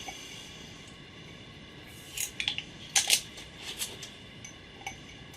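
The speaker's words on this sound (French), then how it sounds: "On va enlever le scotch" Brief crackling rips as adhesive tape is peeled off a mug in a few short pulls, close and fairly quiet against a soft background hiss.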